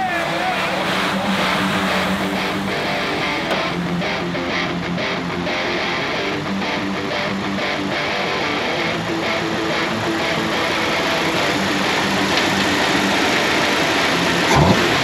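A 1949 Shoebox Ford with its original flathead V8 idling steadily at close range for the full stretch, a continuous low engine rumble with faint voices in the background.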